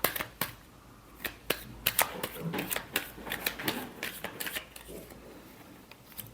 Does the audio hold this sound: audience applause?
no